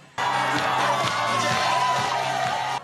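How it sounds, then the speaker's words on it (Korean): A festival crowd at the Chuncheon Mime Festival, with street performances and music in the city centre, cheers and whoops in a loud, steady wash of voices that starts abruptly and holds throughout. "환호와 웃음소리가 끊이질 않습니다"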